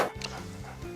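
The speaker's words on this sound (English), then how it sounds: "Why have you got a dog?" A single short, sharp dog bark with a whimpering edge, close and fairly loud, ringing out over a second of otherwise quiet room sound.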